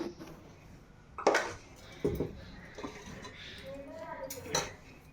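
Metal pots and a pressure cooker handled in a Telugu home kitchen while cooking mutton pulao, giving a few scattered clanks and clinks of cookware, close by, mixed with a person talking.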